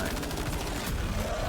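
Rapid gunfire from the video game Death Stranding 2 crackles in a dense, continuous burst of shots, mid-level and steady throughout the short stretch.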